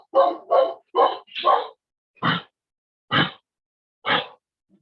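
A dog barks seven times close by, four quick loud barks in a burst and then three more spaced about a second apart, with quiet between them.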